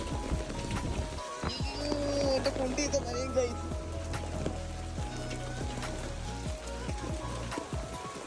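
Steady heavy rain with wind hisses throughout during a hailstorm in Kuwait, with a low droning rumble and a voice-like murmur underneath.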